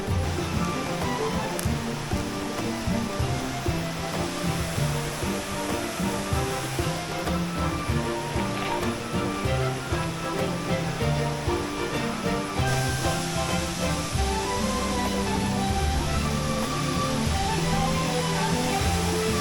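Rushing water from a stream just downstream of a waterfall in Malaysia's Belum rainforest, a steady broadband roar that holds constant and fairly loud throughout, with no voices over it.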